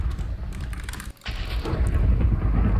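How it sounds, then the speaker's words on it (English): A lightning bolt strikes a lightning rod in Minecraft: after a brief hush, a sudden loud crack of thunder bursts out and rolls on as a broad, rumbling roar. "it just got struck by lightning"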